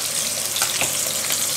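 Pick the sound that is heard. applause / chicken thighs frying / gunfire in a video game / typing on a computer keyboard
chicken thighs frying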